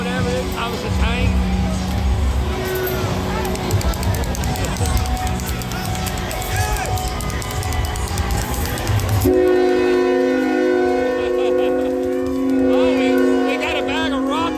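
At a Mardi Gras parade, noisy crowd and rumbling music give way to a loud, sustained horn blast from a Thomas the Tank Engine float that holds steady to the end.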